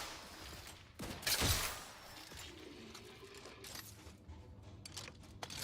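A rocket launcher fires in The Outer Worlds 2, one faint whooshing blast with a short rumble, then quieter scattered game sounds.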